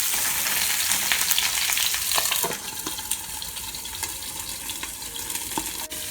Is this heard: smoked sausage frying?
yes